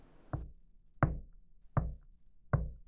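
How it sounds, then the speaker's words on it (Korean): Four firm knocks on a door, evenly spaced about three-quarters of a second apart, close and clear against a quiet background with no voices. "다시 바깥 세상이 문을 두드렸고"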